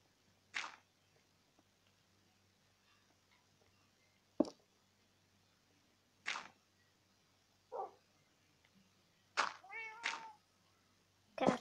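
Cat meows from the Minecraft video game sound in a few short, separate calls spread across quiet stretches, with a brief double meow near the end.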